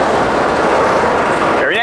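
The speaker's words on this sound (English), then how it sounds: "here comes a couple PA1 units running around" Nickel Plate Road PA1 diesel locomotive units rolling past at a train show, a loud, steady broadband rumble and rush of a passing train filling the whole stretch.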